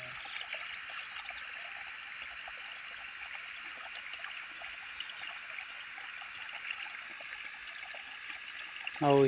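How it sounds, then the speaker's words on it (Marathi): Water runs steadily from a home pump motor used for a small turmeric crop, a constant bright hiss and trickle that carries on evenly from start to finish with no talk. "हे नारायण आबाचं इतकुल्या पाण्यावरती हळद काढते हे घरच्या मोटरीवर."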